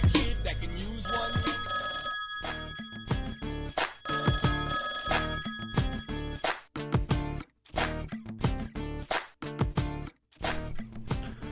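A telephone rings for a podcast phone-in call, with a loud, clear electronic ring pattern that repeats in bursts and breaks up into choppy pulses toward the end. No voices are heard.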